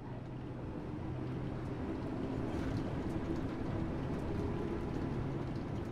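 A 1972 Tube Stock train on the London Underground Bakerloo Line in Train Sim World 2, giving a steady, loud rumble with a low hum throughout and no pauses.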